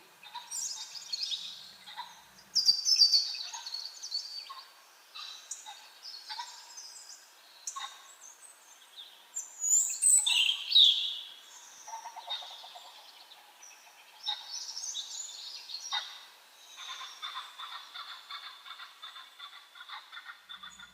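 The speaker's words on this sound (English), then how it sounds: "Birdsong makes us as humans feel happy and safe." Wild birds call and sing in a series of bright, chirping bursts and trills with short gaps between them, fairly close and clear against quiet surroundings, no voices.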